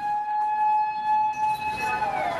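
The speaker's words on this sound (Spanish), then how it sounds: "Esta grabación recoge el momento después de que sonaran las sirenas." Tsunami warning sirens sounding across a Japanese city, a steady loud tone that holds and then starts to waver and fall, heard alone without talk.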